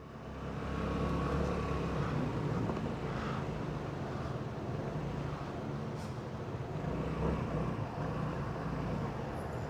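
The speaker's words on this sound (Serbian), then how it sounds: "Kako fino prede ovaj motor." A 2007 Peugeot Satelis 250 scooter engine runs steadily with a smooth, continuous purr and exhaust note, recorded close up with some wind rush over the microphone and no talking.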